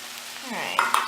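A spoon stirs seasoned meat with tomato sauce, cumin and chili powder in a hot pan, giving a short close scrape and sizzle that ends in two quick clinks.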